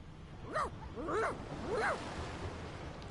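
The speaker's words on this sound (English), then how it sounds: "The dog whines and continues pawing at its nose." A dog in the video game Divinity whines three times in short rising and falling whimpers, close and clear, over a soft ambient background.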